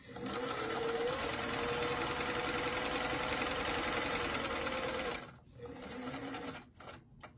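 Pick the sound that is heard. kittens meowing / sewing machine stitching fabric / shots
sewing machine stitching fabric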